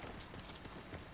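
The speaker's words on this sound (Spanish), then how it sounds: "Este caballo, qué guapo." Horse hooves clip-clop in the video game Ghost of Tsushima, a faint, steady rhythm of soft hoof steps over a hazy, noisy game background.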